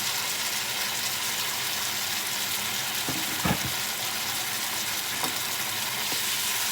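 Pumpkin stir-fried in a pan with a splash of water added, for a pumpkin and egg dish, sizzles steadily throughout, with a few brief scraping stirs of the pan near the middle.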